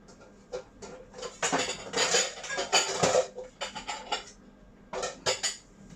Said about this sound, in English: I'm going to get a bowl so I can weigh the full thing.